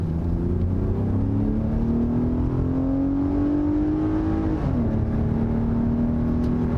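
A 2020 Lexus RX 350 F Sport's engine pulls steadily as the SUV accelerates onto a freeway, its rising drone climbing in pitch before dipping briefly at a shift and continuing, heard from inside the cabin with no talking.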